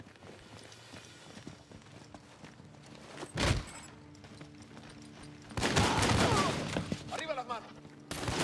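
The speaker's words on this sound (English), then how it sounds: "They're shooting at you." Enemy gunfire in Army of Two: The Devil's Cartel, a couple of loud bursts of rifle and machine-gun fire breaking through ongoing game sounds, with people talking in between.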